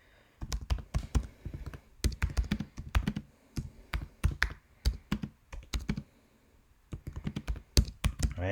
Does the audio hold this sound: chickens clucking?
no